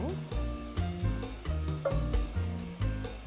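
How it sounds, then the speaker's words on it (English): Collard greens are stirred in a hot pan, giving a sizzle broken by repeated scraping strokes in a steady rhythm. The sound is close and fairly loud, with some faint talk in the background. "So why don't you stir that up a little bit more?"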